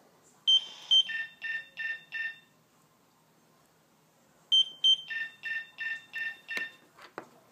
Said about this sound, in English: it doesn't give you that full alert tone. It'll give you a reduced ramp.